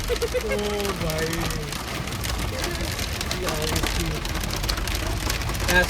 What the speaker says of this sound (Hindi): पड़ रही है बर्फ, वो भी पत्थर वाली बर्फ।